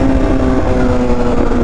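Loud, steady drone of a Yamaha R1M motorcycle engine running close by, a harsh, sustained tone with a slight pitch dip midway and no talking.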